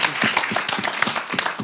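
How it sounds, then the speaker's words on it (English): Audience applause for the actors at a prostate cancer awareness event in Brixton, a short burst of clearly separated hand claps from a modest crowd, fairly close. "put your hands together properly for the actors, for the boys. Yeah, proper round of applause"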